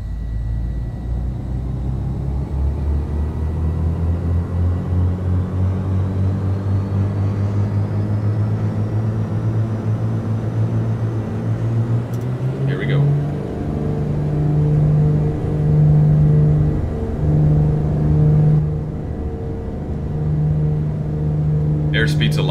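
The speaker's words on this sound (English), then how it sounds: "I want you guys to just listen in so you can hear those turbochargers spooling up" Turbocharged piston twin engines of a Black Square Duke in a flight simulator throttle up: a loud steady drone climbs in pitch, then settles into a higher, stronger whine and rumble that holds to the end.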